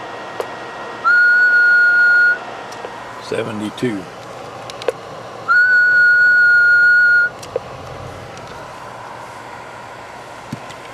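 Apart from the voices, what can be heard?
person whistling into a CB radio microphone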